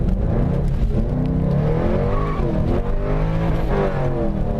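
A rear-wheel-drive manual car's engine revs and pulls hard through acceleration, its tone rising and falling in layered sweeps, loud and close throughout, with no talking.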